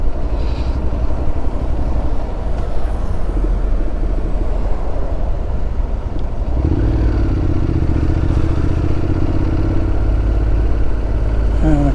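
Motorcycle moving through slow traffic on the Pacific Motorway M1 near roadworks and a crash, a loud, close engine drone under wind rush, with a steadier pitched engine tone rising after the midpoint.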